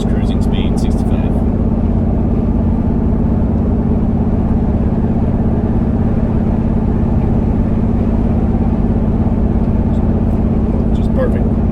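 A 2020 Jeep Wrangler 392 SRT with a 3.5-inch Magnaflow exhaust cruising at 65 mph, giving a steady, loud low engine drone and road rumble heard from inside the cabin.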